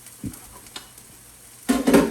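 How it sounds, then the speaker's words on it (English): Aromatics hit a hot pan for sautéing shrimp-and-grits seasoning, giving a few faint stirring clicks and then a loud burst of sizzling that continues to the end, with no talk. "I'm going to take all of my aromatics and saute them."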